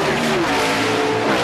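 Loud, steady roar of 2001 NASCAR Busch Series race cars at speed during the MBNA.com 200, engines droning continuously with shifting pitch as the pack passes, and a faint voice underneath.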